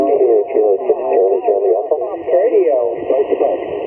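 Amateur radio park-to-park contact received on a portable two-element Yagi antenna during a field activation: narrowband voice over a receiver, steady and continuous, with band-limited hiss and a faint tone band above.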